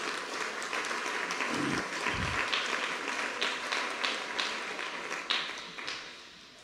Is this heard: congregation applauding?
yes